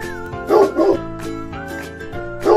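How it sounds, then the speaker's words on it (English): Cartoon dog barking, three loud bow-wow barks spaced apart over a continuous music bed. "Dog."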